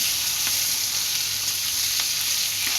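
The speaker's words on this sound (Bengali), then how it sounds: "আমি এর মধ্যে মাছে লবণ হলুদ মেখে মাছগুলি ভাজতে ছেড়ে দিচ্ছি" Shrimp coated with salt and turmeric sizzle loudly in hot oil, a dense, steady crackling hiss with occasional small pops.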